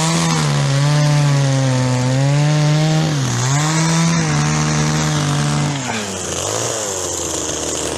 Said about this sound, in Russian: Ему еще вот столько пилить.